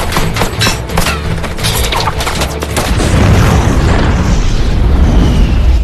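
A loud explosion in an action film erupts with a rapid burst of cracks and crashes, then settles into a sustained roaring blast rumble that fills the rest of the moment.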